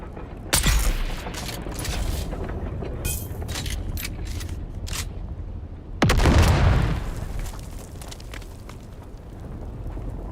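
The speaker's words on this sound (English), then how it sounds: "Grenade out!" A grenade explodes in the video game Dune Awakening, a sudden loud boom midway that rolls into rumbling debris, after stretches of scattered gunfire and clatter.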